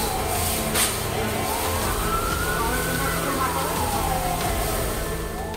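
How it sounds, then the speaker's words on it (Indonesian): A wailing fire truck siren rises and falls over a constant roar of engine and street noise, with no clear speech, at a mall fire in Batam, Riau Islands. "Belasan mobil damkar diterjunkan untuk memadamkan api"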